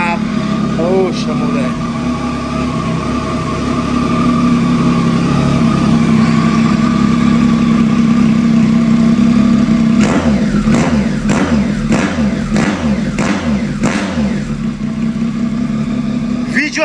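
A Triumph Tiger 800 motorcycle with a straight-pipe exhaust idles with a loud, rough rumble, then snaps into a rapid series of sharp revs near the end, with people talking close by.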